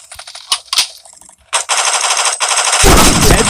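Automatic gunfire in the mobile shooter Forward Assault: loud, dense rapid-fire bursts, sparse at first, then a sustained stream of shots that swells into a heavy roar at the end, with no talking.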